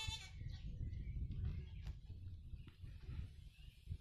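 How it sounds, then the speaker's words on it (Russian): Goats bleat faintly in the distance on a rural village property, thin calls rising over a steady low outdoor rumble with no talking. "А вот козы издалека."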